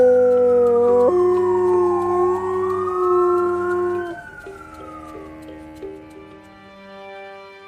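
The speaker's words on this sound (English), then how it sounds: "there's a dog in my neighborhood who howls almost every time the siren goes off" A dog howls in long, wavering rising and falling tones, loud and close, answering a steady siren-like wail that fades into quieter tones.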